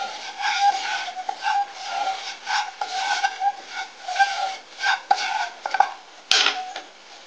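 Flour being stirred and sautéed in butter and oil in a pan, giving a steady scraping and rubbing of a utensil against the pan with small clinks, close and alone without talk.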